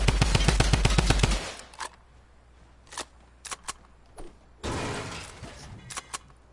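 Drum gun fire in a video game: a rapid burst of automatic shots for over a second, then scattered single clicks and short bursts, closing with a sustained roar of fire, with no talking over it.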